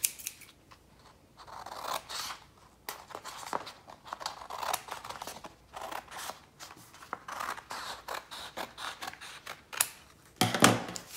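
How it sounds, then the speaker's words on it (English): Scissors snip through green craft paper, cutting a sheet in half in a string of crisp, irregular slicing crunches, close up and alone, with a sharper cluster of cuts near the end. "I'm going to again cut my paper in half first."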